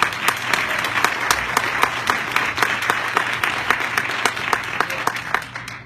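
An audience gives a round of applause for Miss Mable Buckner at an awards event, a dense steady clapping with sharp individual claps standing out throughout.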